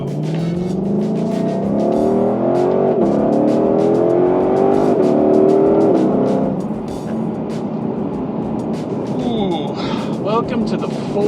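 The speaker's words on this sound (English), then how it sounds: "The actual name of this car is the Ford Shelby GT500." A 2020 Ford Mustang Shelby GT500 accelerates hard and loud, its engine note climbing through several rising pulls before easing off into a lower rumble, with people talking over it.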